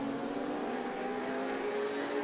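F1000 single-seater race cars run at Croft circuit, a continuous, fairly distant engine drone with a steady pitch as a line of cars streams past, no voices in the clip.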